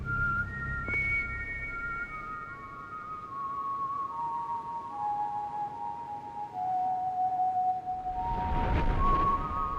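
Melodic whistling from a video game boss battle, a sustained tune of long gliding notes held over a steady background score, with a louder burst of music swelling near the end.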